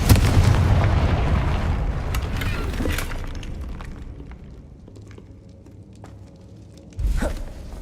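A Confringo blasting spell explodes in Hogwarts Legacy, a loud booming burst that decays over several seconds with crackling debris, followed by a second sharp blast near the end.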